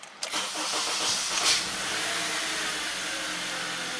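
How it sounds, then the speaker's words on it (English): A 2010 Honda Accord engine cranks briefly and fires up, settling into a steady, fairly faint idle with no talking. "Actually, let's go ahead and start the engine."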